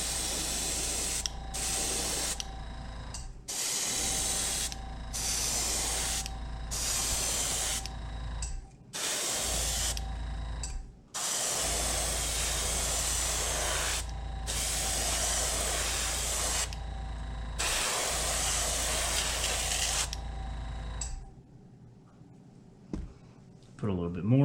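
A spray gun lays Createx Pearl White paint onto a fishing lure in about a dozen close, steady hissing bursts with short pauses between them, then falls quiet at the end.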